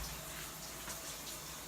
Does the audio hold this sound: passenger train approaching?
no